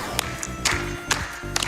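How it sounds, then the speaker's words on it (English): Audience at the AGDQ 2024 speedrun event claps along in a rhythmic beat, a few sharp claps standing out over a crowd murmur and a low musical backdrop. "Ooh, and some clapping going."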